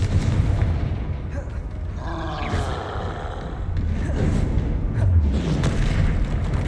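Bursts of magical spell blasts and explosions from the video game Hogwarts Legacy, booming impacts with crackling, whooshing effects layered over a steady, dense game soundscape.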